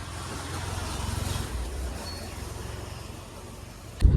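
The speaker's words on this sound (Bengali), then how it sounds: "তো দেখো গাড়িতে করে যাচ্ছি" Riding inside a car, with a low, steady engine and road rumble throughout and a brief thump near the end.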